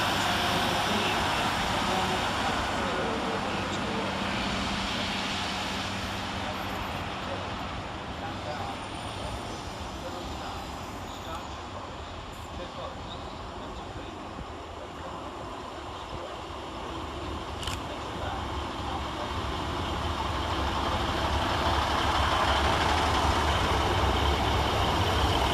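Transport for Wales trains depart and arrive at Cardiff Queen Street station, a long steady diesel rumble that fades slightly mid-way and swells again as another train draws near.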